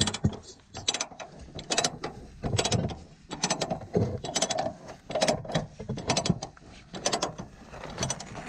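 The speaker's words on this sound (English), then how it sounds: "So let me try ratcheting it back a little bit." A ratchet cranks a chain tight on a broken equipment trailer leaf spring, loud metallic clacking strokes repeating in a steady rhythm close by, with no talk.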